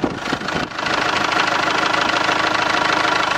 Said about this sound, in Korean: 엔진 소리 바로 들려드릴게요.